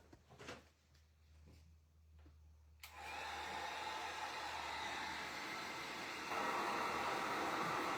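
A heat tool drying paint on small craft tags switches on after a few quiet seconds of soft handling noises, then blows with a steady loud whooshing hiss that rises slightly near the end.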